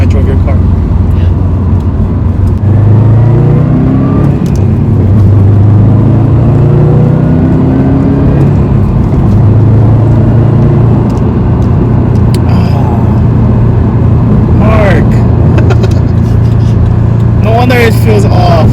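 Subaru WRX engine revving up and dropping as gears change, rising and falling in steady steps with cabin road noise, a voice speaking briefly near the end.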